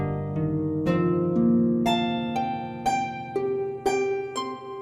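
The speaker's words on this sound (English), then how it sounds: "what you hear now is the musical representation of the spike protein of COVID-19's pathogen." A musical sonification of the COVID-19 coronavirus spike protein: layered synthesized plucked and sustained notes form a slow, shifting melodic passage, with soft chimes entering over a low steady drone, no voices.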